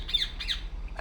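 Harsh bird squawks in the game République, two sharp calls close together and then a short third burst, loud and near, with no talk.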